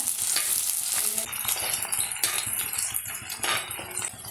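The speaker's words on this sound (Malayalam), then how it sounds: "നന്നായി വഴറ്റുക. 2 തണ്ട് കറിവേപ്പില ചേർക്കുക." Shallots, garlic and curry leaves sauté in coconut oil, giving a steady, close, bright sizzle with scraping stir strokes throughout and no talking.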